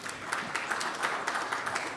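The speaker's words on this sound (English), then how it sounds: "I think they deserve the huge round of applause" Applause from an audience at a healthcare summit: a brief, dense burst of many hands clapping evenly, moderately loud, with no talking over it.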